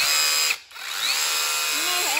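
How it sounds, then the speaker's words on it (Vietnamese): A Dekton cordless rotary hammer drill set to chisel mode runs as a loud, steady mechanical whir close by. It dips briefly, then resumes and continues to the end. "Nghe thấy em tiếng máy này. Đang ở chức năng đục này."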